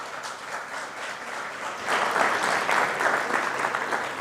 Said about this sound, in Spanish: doctor Ricardo Sepúlveda Ignis, a quienes recibimos con un fuerte aplauso.